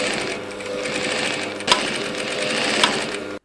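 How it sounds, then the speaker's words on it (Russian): A sewing machine runs steadily in a tailoring workshop, a loud continuous mechanical whir with rapid regular stitching pulses and a couple of sharper clicks, then stops abruptly. "Швейные машинки, нитки и иголки."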